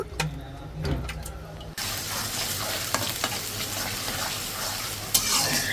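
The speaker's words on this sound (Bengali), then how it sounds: "কড়াইতে অনেকগুলা তেল দিছি তারপর পেঁয়াজ দিছি তেজপাতা লং এলাচ সব কিছু দিয়ে ভাজা ভাজা করে নিতেছি" Onion, bay leaf, cloves and cardamom fry in plenty of oil in a wok, giving a steady close sizzle with stirring scrapes after a sharp jump in loudness early on.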